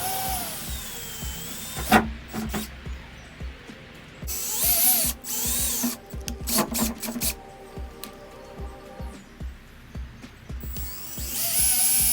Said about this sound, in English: drill with a 1/8 inch drill bit for the pilot holes